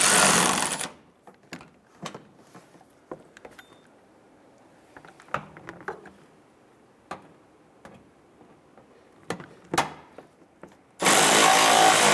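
Power tool tightening bumper fasteners on a 2005-2010 Chrysler 300, loud bursts at the start and end of the clip with quieter clicks and taps between them.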